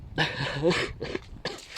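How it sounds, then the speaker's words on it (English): A few short, harsh coughs in quick succession, close and fairly loud, with brief pauses between bursts. "Got a cough too. Pardon me."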